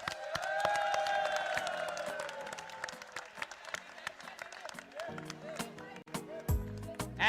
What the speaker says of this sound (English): let's give a big round of applause for all our teams working behind us